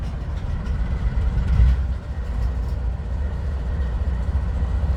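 A long freight train with a DPU locomotive rolls past in winter, a steady low rumble of wagons and engine at moderate distance with faint rail clatter and no talk.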